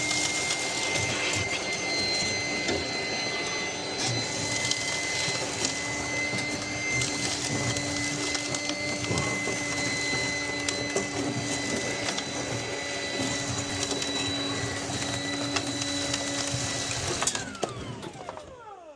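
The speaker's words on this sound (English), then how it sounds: "Let's vacuum this out." A battery-powered vacuum cleaner whirs steadily at close range inside a truck with a high-pitched motor whine, running continuously before cutting off abruptly near the end as the battery dies.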